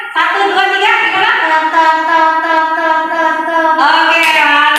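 Children vocally imitate a police patrol motorcycle, a loud continuous siren-like wail held for several seconds with slight rises in pitch.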